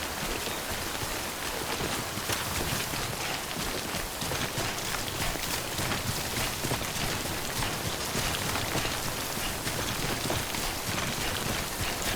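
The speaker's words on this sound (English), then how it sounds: "Don't stay out in the rain any longer than you have to." Heavy, steady timefall rain pours without pause in the video game Death Stranding, a dense broadband hiss of drops pattering on surfaces, loud and close throughout.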